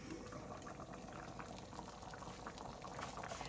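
A one-pot bean curry simmering slowly in a pot gives a steady bubbling, boiling texture, close and continuous with no talk.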